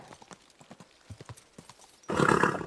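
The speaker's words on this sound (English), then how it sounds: "Easy, good horse." Horse in the video game Kingdom Come Deliverance 2 clops along with a steady, light hoof rhythm, then a loud, sudden whinny-like burst closes the moment; no voices.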